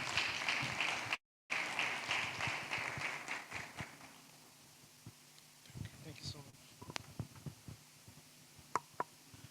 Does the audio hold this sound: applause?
yes